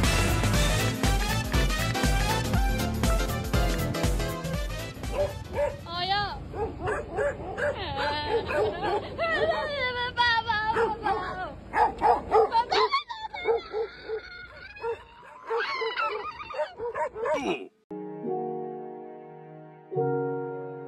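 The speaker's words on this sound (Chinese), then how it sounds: "前面有一只超可爱的狗狗" A dog on a mountain road barks and whimpers in a run of yips and whines mixed with music-like tones, and people talk over it.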